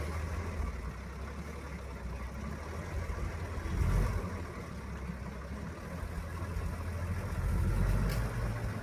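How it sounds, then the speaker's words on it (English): A 1943 Humber heavy utility military vehicle engine idles with a low, steady rumble, swelling briefly twice as it revs a little, heard up close. "1943 Humber military vehicle. It sounds beautiful."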